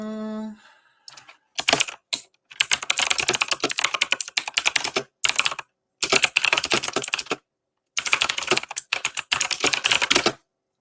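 Fingers clatter on a computer keyboard in quick bursts of rapid keystrokes separated by short silent pauses, close and crisp.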